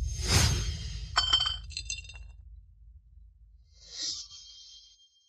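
A porcelain bottle filled with iron powder is clinked in an antique-testing setting, giving a sharp knock followed by a few bright, slightly dull ringing taps, then a fainter clink later, with nothing else heard.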